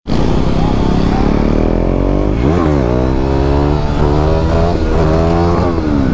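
A KTM Duke 390 motorcycle engine roars loudly up close, its pitch rising and falling as the throttle is revved repeatedly throughout.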